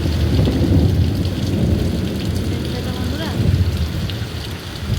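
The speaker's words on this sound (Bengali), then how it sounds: "কত জোরে বৃষ্টি পড়ছে" Heavy rain pours in a dense, loud, continuous roar with a deep rumble underneath, during a Rath Yatra fair in Puri, while a person speaks briefly over it.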